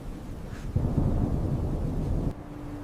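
A low, rolling rumble of thunder swells in suddenly, holds for over a second, then cuts off abruptly.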